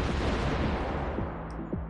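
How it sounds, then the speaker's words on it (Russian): A grenade explodes in the video game I Am Security, a broad, loud blast of noise filling the whole short clip and tailing off slowly, with faint thuds near the end. "У него граната, пацаны, была. Она взрывается же?"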